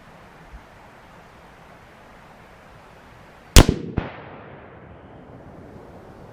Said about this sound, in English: let's take this first shot here and see where she hits